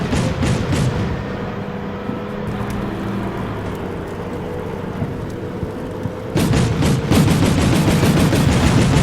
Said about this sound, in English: Let's hope that these machine guns make up for it.